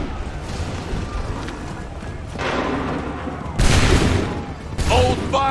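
Musket volleys fired by soldiers in Assassin's Creed III, loud cracking bursts with booming reports, heavy blasts in the later seconds, mixed with shouted voices.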